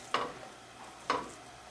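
Stuffing ingredients cooking in a pan, heard as two separate scraping or stirring strokes about a second apart over a faint, quiet sizzle, close by with no talk.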